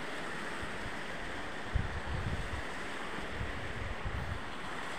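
A large stream flowing below cave falls makes a steady, broad wash of rushing water, continuous and fairly close, with a few low rumbling gusts mixed in and no voices.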